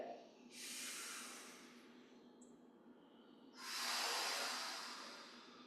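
Two powerful breaths during a Yi Jin Jing qigong exercise, each a long forceful airy rush, the second louder and closer, separated by a quieter pause.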